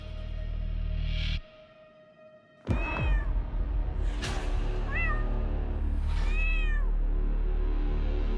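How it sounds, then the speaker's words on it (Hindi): A pet cat named Mimi meows several times close by, short bright mews spaced a second or so apart, after a brief quiet gap in a low steady background hum. "बिल्ली पाल रखी है आपने तो"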